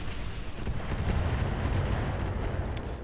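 A turret weapon firing in the mech video game Roguetech, a dense, sustained roar of heavy booming fire with rumbling low end, loud and continuous throughout with no speech.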